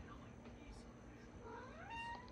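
A pet cat meows with a rising, rather faint call near the end, over low room noise while someone does a makeup painting tutorial.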